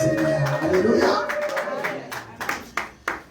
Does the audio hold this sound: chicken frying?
no